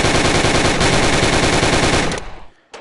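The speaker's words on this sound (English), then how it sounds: "Good old Tommy gun." A Tommy gun in the VR shooting game Gun Club VR fires a loud, rapid, unbroken burst of automatic shots for about two seconds, then cuts off into a brief ringing tail.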